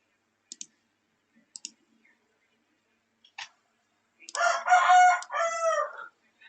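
A rooster crows loudly once, a long rising and falling call, preceded by a few sharp clicks in an otherwise quiet space.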